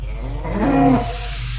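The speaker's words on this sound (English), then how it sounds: "That's a demon cow if I've ever seen one." A demon cow in the video game West of Loathing lets out a single deep, drawn-out moo that swells in the middle and fades, loud and close over a low background hum.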